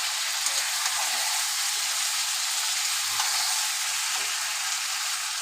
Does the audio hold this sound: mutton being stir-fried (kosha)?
yes